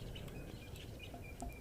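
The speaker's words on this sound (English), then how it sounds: "You also just pick up a number of that little bird audio there" Small birds chirping and calling from a green thicket, with short high tweets scattered over a steady outdoor background hiss, fairly faint and distant.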